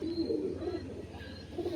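Pigeon cooing close by, a soft, throaty burbling call rolling on for a couple of seconds in a steady murmur, with no voices.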